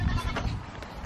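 Goats bleat close by on a farm, giving a short, wavering call over soft background noise.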